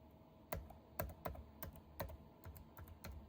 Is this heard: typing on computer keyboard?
yes